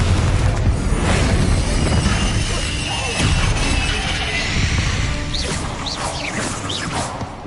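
Spell effects, Confringo among them, crash and boom in Hogwarts Legacy during a fight with a spider, forming a loud, dense roar of blasts, impacts and shattering throughout, with whooshing sweeps near the end.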